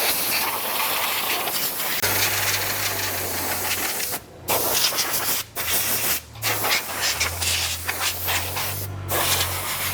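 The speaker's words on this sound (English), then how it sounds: "our one last step of a happy clean bike is to hit it with the air hose" Loud, close hiss of an air hose blowing a freshly washed dirt bike dry, continuous bursts broken by several short gaps, with no talking.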